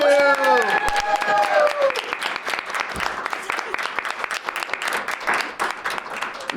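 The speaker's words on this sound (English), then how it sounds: "And an applause for you, Rudy, too." Sustained crowd applause with many hands clapping, while a voice talks over it at the start.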